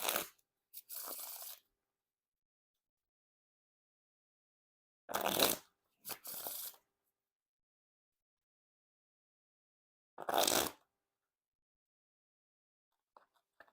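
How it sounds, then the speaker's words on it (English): Three separate bursts of riffle shuffling Iron Spades playing cards by Roxley Games, each a quick rippling flutter of cards followed by a short riffle, with silence between them. "Now time for the riffle shuffle or bridge shuffle."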